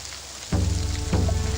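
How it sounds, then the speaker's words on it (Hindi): Heavy rain pours down during a drama scene where the roads to Dharampur are closed. A steady, dense hiss jumps in loudness after half a second and stays thick and close, with a low tonal hum underneath and no voices. "देखो ना बारिश कितनी तेज हो रही है"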